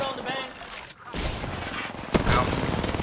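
Sniper gunfire in the Apex Legends video game, with loud sharp cracks near the start and again around two seconds, followed by a dense burst of game noise and reverberant blasts.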